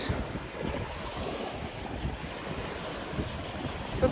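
Sea waves wash along the Tekirdağ seafront in a continuous rough roar, with gusty wind buffeting the microphone and no voices.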